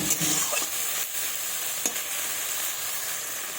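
Small fish curry being sautéed in a pan, a loud, dense, hissing sizzle that runs throughout, with a couple of faint stirring knocks and no speech.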